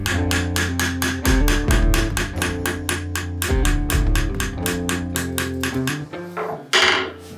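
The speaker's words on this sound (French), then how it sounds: "il va falloir taper sur le clou en inclinant légèrement le marteau pour frapper le clou uniquement sur son pourtour" A hammer taps rivet nails on a handmade folding knife from a knife-making kit, striking them at a slight angle in a fast, steady run of sharp metallic blows, close and loud, before slowing near the end.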